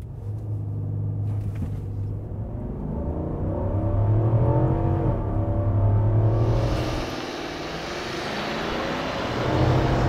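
A 2022 Infiniti QX80 with its 5.6-liter naturally aspirated V8 accelerates hard from a stop without launch control. A deep, steady engine rumble builds and holds, rising in pitch with a brief dip partway through, heard alone without talk.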